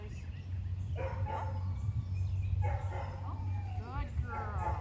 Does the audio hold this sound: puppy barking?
yes